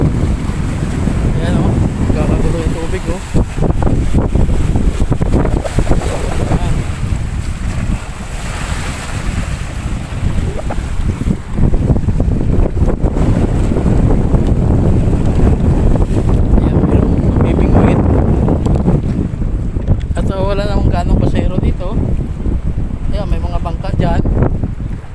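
Strong wind buffets the microphone at a boat pier in the Philippines, with lapping waves and boat noise, and voices talking intermittently beneath the gusty roar.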